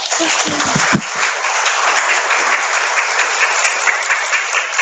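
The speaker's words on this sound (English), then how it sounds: "Give Tina a round of applause." Strong, continuous applause from an audience at a startup pitch event after a presenter finishes, many hands clapping loudly and steadily close by for the whole span, with a brief voice near the start.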